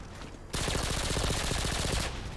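A loud, close burst of rapid automatic fire from akimbo weapons in Modern Warfare 2 starts abruptly and keeps a fast, even rhythm for about a second and a half, with no talking over it.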